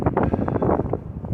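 Gusty wind buffeting the microphone on a Great Smoky Mountains section of the Appalachian Trail, a loud low rumbling roar that pulses briefly throughout.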